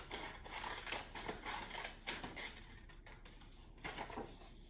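Scissors snip through paper with quiet, irregular crunching cuts and faint rustling as the sheet is turned around a circle, close and soft with no talking.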